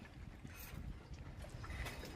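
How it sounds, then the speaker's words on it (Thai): Strong wind roars steadily across the microphone at a reservoir by a floating raft during fishing in early cool season, with low rumbling gusts and water-like wash continuing throughout. "ลมก็แรงนะครับ"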